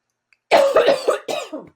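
A single close, loud cough in two rough bursts, a harsh hack followed by a shorter second cough.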